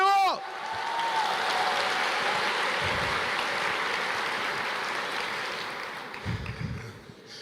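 A church congregation claps steadily in a broad, sustained wash of applause. The clapping fades toward the end as a voice and some scattered noises come through.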